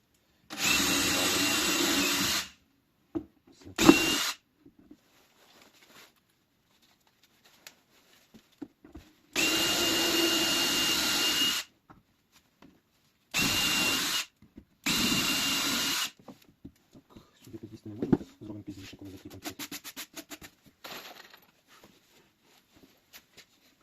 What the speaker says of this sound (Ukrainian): Свердло 3 мм ставимо на дріль.